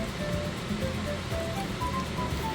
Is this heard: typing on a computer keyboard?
no